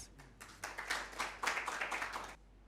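A small audience at an Independence Day mushaira poetry gathering claps, a quiet, brief run of distinct hand claps that grows denser then stops after about two seconds.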